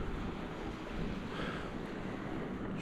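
Sea waves wash continuously onto a beach, a steady broadband surf and wind rush with no distinct breaks and no voices.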